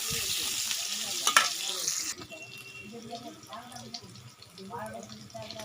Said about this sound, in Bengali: কুচিয়ে রাখা পেঁয়াজ দিয়ে দিচ্ছি। ভালো করে একটু নাড়িয়ে নিচ্ছি।